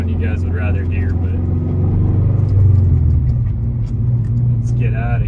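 A turbocharged Toyota 86 driving at night gives a steady low interior rumble of engine and road noise, with someone talking over it throughout.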